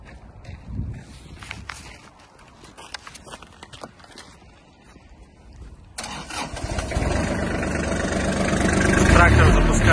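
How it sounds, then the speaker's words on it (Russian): A Kubota GT21 mini tractor, a 21-horsepower Japanese compact diesel, cranks over and catches around the midpoint, then settles into a steady, even idle that builds slightly louder toward the end; quiet handling noises come before the start. "Трактор запускается легко, работает чисто, ровно."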